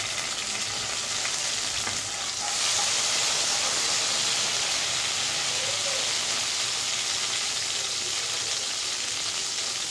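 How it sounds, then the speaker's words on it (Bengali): Chopped garlic fries in hot oil, a loud, steady, close sizzle with a dense hiss that holds unbroken throughout, with no voices. "রসুনটা একটু লাল লাল করে ভেজে নিতে হবে"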